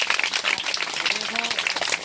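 An audience at a prayer gathering claps loudly, quick, dense clapping running throughout, with a voice speaking over it.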